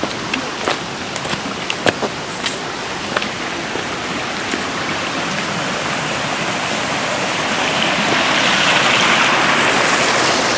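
Gandahati waterfall in Odisha pours steadily, a dense close roar of falling water that swells louder toward the end, with a few faint sharp knocks early on and no talk.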